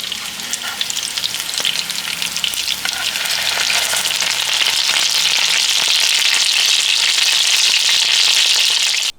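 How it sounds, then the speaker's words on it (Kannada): Chicken vada patties fry in oil in a pan over a medium flame, a loud, dense, continuous sizzle and crackle that grows slightly fuller partway through, close up with no voices. "ನಾನಿಲ್ಲಿ ಮೀಡಿಯಂ ಫ್ಲೇಮ್ನಲ್ಲಿ ಮೂರರಿಂದ ನಾಲ್ಕು ನಿಮಿಷ ಒಂದೊಂದು ಸೈಡ್ ಬೇಯಿಸ್ಕೊಳ್ತಾ ಇದ್ದೀನಿ"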